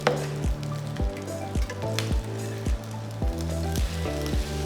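Rice omelette made with egg and onion sizzling in olive oil in a pan, a steady crackling hiss that sits beneath loud, beat-driven background music.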